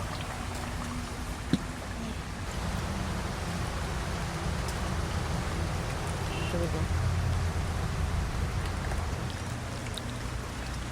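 Rain falls during a storm as a steady, broadband hiss with dense rumbling noise underneath. It holds evenly throughout with no clear individual drops, and a voice speaks faintly under it.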